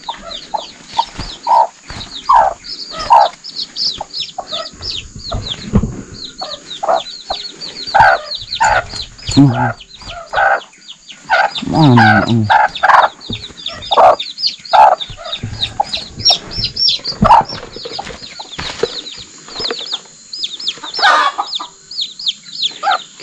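Chickens cluck steadily and close by around a farm hut, with a hen and her newly hatched chicks among them, giving short repeated calls and occasional louder squawks, and one brief spoken word.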